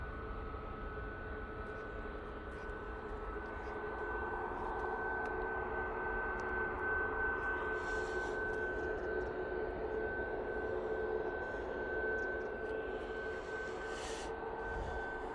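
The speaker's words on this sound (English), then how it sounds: "EasyJet has touched down. I'll catch that one as it goes past us." An easyJet airliner taxis past at Manchester Airport just after touchdown, its engines giving a steady, continuous whine and rumble that holds fairly close and even for the whole stretch, with no voices.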